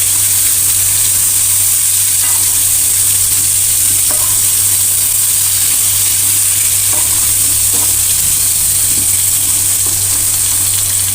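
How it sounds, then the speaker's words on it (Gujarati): Gunda (glueberries) crackle and sizzle in hot oil over low heat for pickle, a steady, dense, loud frying hiss throughout with a few faint clicks, no voices. "ધીમા તાપે ગુંદાને હવે ક્રિસ્પી થવા દેવાના છે"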